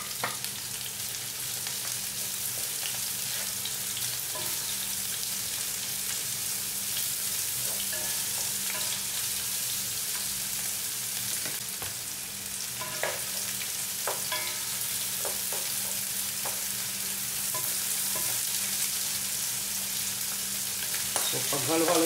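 Onion and ginger fry in a pan with a steady, close sizzle, the start of a creamy chicken dish. A spoon stirs and scrapes at intervals over the continuous hiss.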